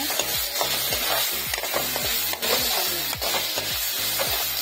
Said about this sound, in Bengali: ঘিটা গরম হয়ে গেছে, চালটা দিয়ে দিব মধ্যে। চালটা ভালো করে ভেজে নিব।